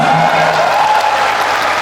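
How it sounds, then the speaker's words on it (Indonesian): Audience applause at an Indonesian talk-show taping, a loud, continuous clapping wash filling the room with a faint tone running beneath it. "Oh, tepuk tangan."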